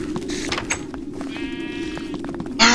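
Sheep bleat in a video game, a short harmonic cry in the middle and another sharper bleat at the end, over a steady low background drone.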